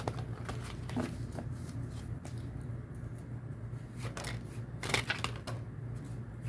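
Large cards being shuffled by hand, with intermittent flicks and riffles over a low steady hum, close and fairly quiet.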